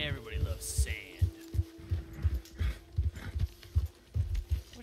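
Horse hooves clip-clop at a steady trot in Red Dead Redemption 2, a rhythmic run of close, regular footfalls over a low hum with faint game ambience.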